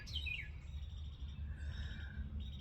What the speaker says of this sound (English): My little bird is right there.